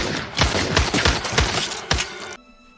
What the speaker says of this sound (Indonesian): Tanpa banyak basa-basi langsung menembak Victor, kemudian lanjut mencari Angela.